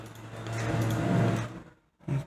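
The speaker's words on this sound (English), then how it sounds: "I close the window." Window being closed indoors: a rising sliding scrape for about a second and a half, a brief pause, then a short solid thump as it shuts.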